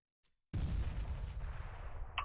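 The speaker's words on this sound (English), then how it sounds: "that nade did do a considerable amount of damage as ShahZaM did spot the first man" A grenade explodes in Counter-Strike: Global Offensive, a sudden loud, deep blast after a faint click, followed by a rumbling tail that fades over about two seconds.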